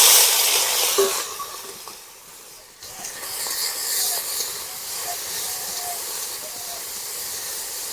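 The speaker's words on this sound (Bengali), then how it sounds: "এবার ফের কড়াতে তেল দিয়ে চিংড়ি মাছগুলো ভেজে নেবো।" Turmeric- and salt-coated shrimp fry in oil in a kadai, making a loud, steady sizzling hiss that dips briefly and then carries on evenly.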